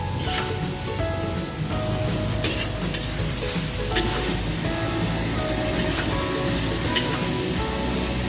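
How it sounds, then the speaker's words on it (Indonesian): Noodles fry in a wok over a high flame, a constant loud sizzle with repeated scraping stir strokes of a spatula, busy and close, no voices. "Gunakan api yang besar agar mie yang kita masak cepat matang."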